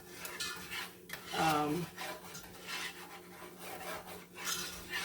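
A whisk beats a mixture in a bowl for meatloaf meatballs, making soft, repeated rasping and scraping strokes in an uneven rhythm at moderate to low volume.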